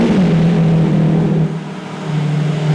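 A 2024 Lamborghini Revuelto fires up from a cold start, a loud, steady, deep engine drone that dips briefly midway and then settles back into a strong idle.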